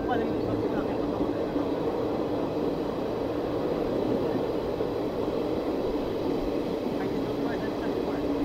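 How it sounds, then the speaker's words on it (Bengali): A passenger train pulls out of Ahmedpur Junction station on the Tarapith to Kolkata line, giving a steady, loud rumble of wheels and carriages that runs through without a break while a voice talks over it. "আমাদের ট্রেন কিন্তু ডিপার্চার করছে আহমদপুর জংশন থেকে।"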